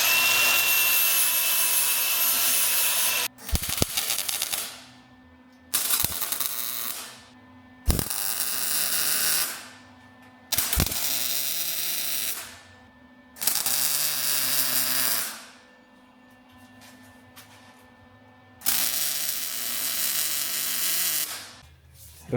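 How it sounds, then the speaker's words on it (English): Welding a butt connector on an abandoned race car produces repeated loud, close bursts of harsh crackling, each lasting a couple of seconds and separated by short quiet gaps. "Okay, so our second one is welded up."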